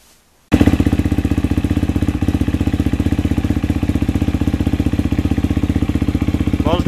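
A dirt bike that had sat unused for three weeks fires up and settles into a steady, loud idle with an even, rapid pulsing beat that carries on alone until the end.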